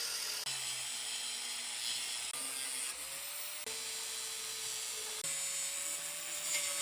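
Cutoff wheel grinding through old metal pipes, a continuous loud high whine with pitch shifting as the load changes and brief dips between passes.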